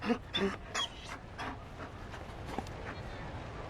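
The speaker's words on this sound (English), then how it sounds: "You found a dog. They don't breed Mabari in Olay." A Mabari war dog in Dragon Age Inquisition pants and whimpers in short bursts, close and moderately loud, over a busy game background with a few soft, footstep-like taps.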